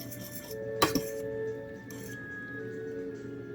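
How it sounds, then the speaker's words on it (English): A utensil stirs Acecook wakame ramen with Ise shrimp and shoyu in a cup, giving a couple of quick, sharp clinks against the container over a quiet background, followed by faint scraping. "Give this a little stir as it steeps."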